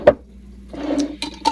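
A lidded container with tofu and water is shaken in a kitchen, giving a short clatter followed by a few rattling, sloshing bursts, close and moderately loud.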